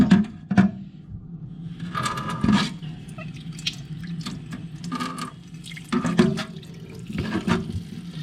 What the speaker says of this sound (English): The grass is the only thing you can water from the top like this and not worry about damaging